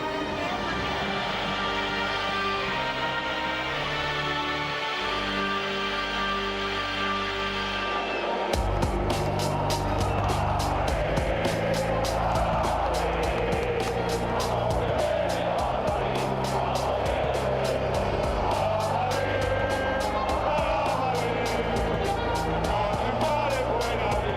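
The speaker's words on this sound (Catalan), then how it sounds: "la llegada del autobús" A team bus carrying FC Barcelona arrives at the Santiago Bernabéu stadium, with a steady roar of vehicle engine and crowd noise running throughout, growing denser and busier after a sudden cut partway, under continuous broadcast commentary.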